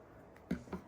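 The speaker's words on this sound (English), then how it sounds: "So just very carefully snipping that." Scissors snip through tape on a package of shipped plants, making two quick, soft, close snips in a quiet room.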